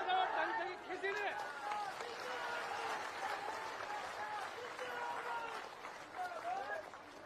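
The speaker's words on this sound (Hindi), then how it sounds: "अरे जरा ताली बजाओ ढंग से किसी ने।" A crowd at a political rally in India claps and cheers, a dense continuous round of applause with voices mixed in, fairly distant and steady throughout.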